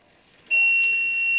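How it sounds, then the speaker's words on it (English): An oven timer goes off during donair baking, starting suddenly as a sustained, piercing electronic beep tone that holds steady and loud after a brief quiet lead-in. "the first 45 minutes just beeped, so I took it out of the oven"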